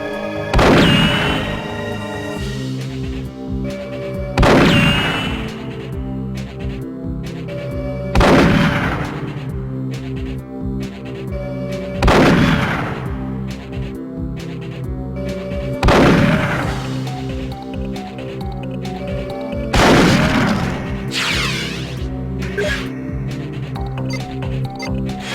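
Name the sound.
Cyclone gun firing in the Perfect Dark video game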